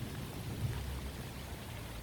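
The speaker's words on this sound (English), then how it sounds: "When the lightning strikes, Diego is right there under a tree" Lightning storm with thunder and rain, a steady hiss of rainfall with a low rumbling boom swelling briefly partway through.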